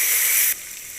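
Tomato and green chillies hitting a hot pan, a loud, bright sizzle that bursts out at once and then drops sharply to a quieter hiss after about half a second.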